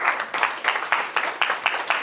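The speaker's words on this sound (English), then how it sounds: "give yourselves a round of applause" A small audience at an art exhibition lecture applauds, a brief patter of several people clapping together, fairly close and steady with no talk over it.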